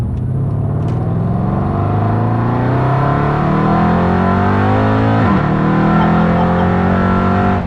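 A loud supercharged 700+ bhp Mercedes C63 AMG with IPE headers and a valved Capristo catback exhaust revs hard through rising gear pulls with a sharp shift, deep and raspy, close by, no talking.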